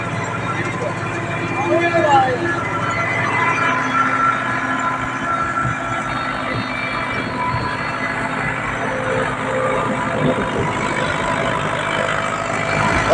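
A small tractor runs steadily, its engine droning loud and close along with the whine of noisy hub reduction gears. People talk over the running tractor.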